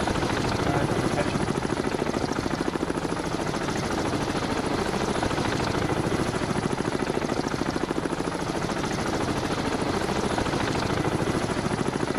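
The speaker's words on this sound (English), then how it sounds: "The helicopter's dropping torpedoes." A helicopter in the submarine combat game Cold Waters thrums with a steady, loud rotor chop that runs unbroken throughout, close and constant with no other sounds standing out.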